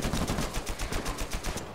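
Rapid automatic gunfire in an Uncharted 4 multiplayer match, a dense, loud, steady rattle of shots lasting under two seconds with no talking.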